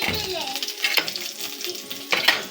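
Lumpia spring rolls fry in a pan with a bright, crackling sizzle, punctuated by a few sharp clinks and stirring bursts, while a voice murmurs faintly in the background.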